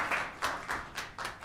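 Applause for town council commendations, a small group clapping steadily at moderate distance in a meeting room, the claps blending into a soft, uneven patter.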